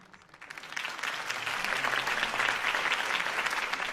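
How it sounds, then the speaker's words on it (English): A crowd applauds a campaign speech in a Batman video game. The clapping starts faint, quickly swells, and then holds steady as dense, loud applause. "could have heard that applause"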